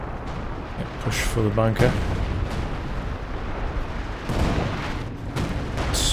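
Zeroing artillery barrage in Company of Heroes 2, a 2v2 match: rumbling, booming impacts spread through the clip under a continuous battle din, with a short voice line spoken partway through.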